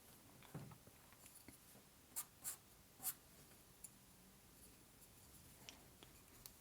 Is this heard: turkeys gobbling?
no